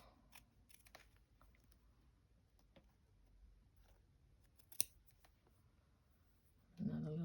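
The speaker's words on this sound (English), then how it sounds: "so I'll just cut some skinny bits." Scissors snipping skinny strips from good-quality paper, a few faint quiet clicks and one sharp snip, close in a hushed room before a sudden louder rustle at the end.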